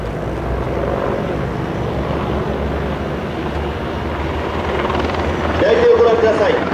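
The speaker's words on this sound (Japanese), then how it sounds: "戦闘ヘリコプター AH-64B と 30mm 機関砲の射撃を観測する観測ヘリコプター OH-1 が侵入してきました。" An AH-64 attack helicopter and an OH-1 observation helicopter fly in at a Japanese live-fire exercise at Fuji, with a heavy rotor roar that swells as they approach. An announcer talks over a public address system throughout.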